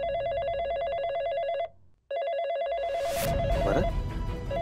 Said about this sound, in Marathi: आई, तुझा फोन.